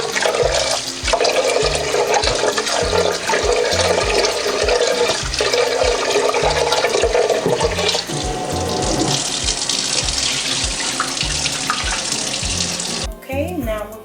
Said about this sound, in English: So what we want to do is kind of rinse a little bit of that starch off